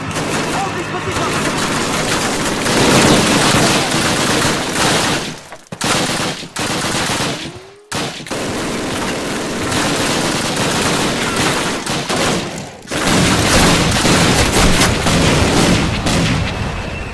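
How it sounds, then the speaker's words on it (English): Sustained machine gun and rifle fire in a Call of Duty Soviet campaign battle defending Pavlov's House, dense and continuous with a few brief lulls, loud and close, with shouted voices mixed in. "Machine gun! Machine gun ready!"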